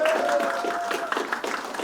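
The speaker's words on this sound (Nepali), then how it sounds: "खै ताली ताली चाहिँ रोकिनु भएन है।" Crowd clapping steadily at a graduation ceremony in a hall in Pokhara, brief and fairly close, with a voice speaking over the applause.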